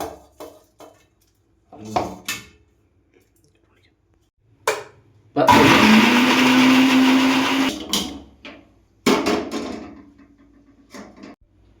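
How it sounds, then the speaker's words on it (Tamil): A mixer grinder grinding coconut chutney with dried chillies, garlic and cumin whirs loudly for about two and a half seconds, with a kitchen clatter, a clink and a short burst of grinding before and after it. "எல்லாத்தையுமே மிக்சியில் போட்டு அரைக்கணும்"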